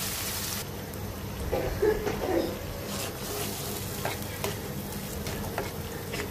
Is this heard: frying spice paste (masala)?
yes